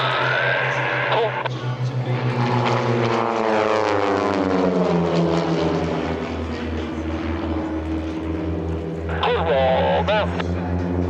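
Redline Airshows propeller planes fly a clover maneuver at EAA AirVenture, their loud engine drone sweeping up and down in pitch as the aircraft pass, with a commentator's voice over the top.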